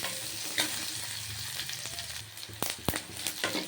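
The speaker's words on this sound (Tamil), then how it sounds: "வதக்கணும். கொஞ்சம் வதங்கட்டும்." Onions sauté in a pan for sundakai kulambu, a soft steady sizzle with a few sharp spoon taps and stirring scrapes, fairly quiet and with no talking.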